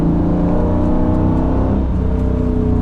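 Nissan F-body car engine revving and pulling uphill during night touge street drifting, a loud continuous drone with steady harmonics and a dip in pitch near the end, alone without talk.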